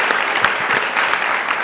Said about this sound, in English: Please join me in giving the speakers a round of applause one more time.